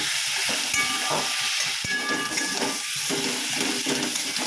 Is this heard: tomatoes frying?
yes